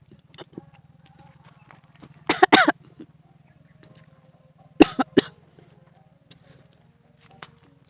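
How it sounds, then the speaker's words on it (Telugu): A person coughs after eating astringent fruit picked from a tree, with two loud bursts of several harsh coughs spaced a few seconds apart amid otherwise quiet outdoor surroundings. "ఇలా తింటా ఉంటే దగ్గు కూడా వచ్చింది కదా"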